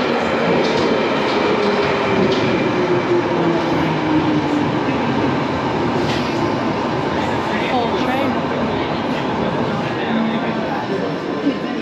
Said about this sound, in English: Piccadilly line, the train now approaching is to Cock Bosses.